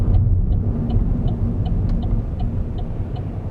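A car pulls out and turns onto a main road near Naas, its engine rumbling low and steady up close, with a faint regular ticking from the turn signal throughout.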